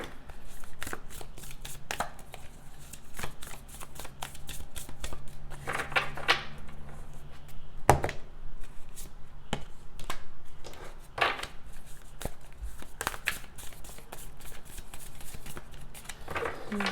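Tarot cards riffled and shuffled in repeated crisp bursts of papery flicking and tapping, close and moderately loud throughout, with no talking.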